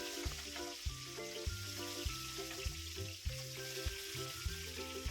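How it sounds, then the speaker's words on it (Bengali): Katla fish pieces rubbed with salt and turmeric frying in hot oil in a wok, giving a steady close sizzle with rhythmic popping and spatters throughout. "তেল ভালো করে গরম হয়ে গেলে আমি লবণ হলুদ মাখিয়ে নিয়ে মাছগুলো ভেজে নেওয়ার জন্য এক একে দিয়ে দিয়েছি।"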